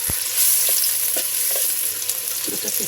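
Chopped onion sizzling in hot oil in a pan, a steady crackling fry with a few soft stirring scrapes near the end.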